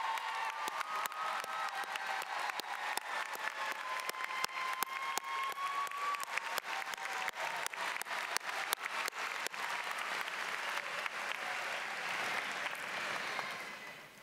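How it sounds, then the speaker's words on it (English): A graduation audience at the 2019 Clover Hill High School ceremony gives sustained applause for the door openers, a dense, steady wash of clapping with a few faint cheers, lasting about fourteen seconds. "Please offer a round of applause for our door openers."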